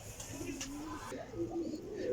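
Two Chinese pigeons give low, soft cooing calls close by in a short burst, with a faint background murmur.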